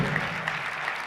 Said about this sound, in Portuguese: Uma salva de palmas, a instrução.